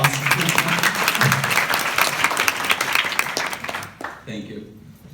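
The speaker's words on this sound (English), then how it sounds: "Can we have a round of applause?" Audience applause at a keynote speech, loud sustained clapping for about four seconds that cuts off sharply, followed by a voice starting to talk.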